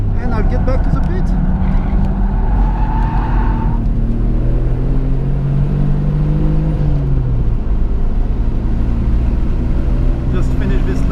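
A 1992 Nissan Skyline R32 GT-R on a cool-down lap at Suzuka, its engine drone steady and loud from inside the car, pitch rising and falling as the driver lifts off the throttle, with someone talking over it.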